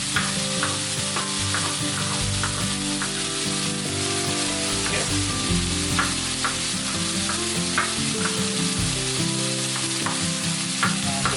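Onions fry steadily in a pan with a dense, constant sizzle, punctuated by faint clicks and knocks of utensils, close and moderately loud, for a dish of mussels chilli fry.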